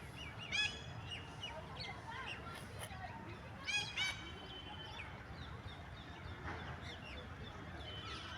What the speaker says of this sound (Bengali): গাছগুলিতে বসে পাখিরা বিভিন্ন ডাকে আমাদের মনোরঞ্জন করছে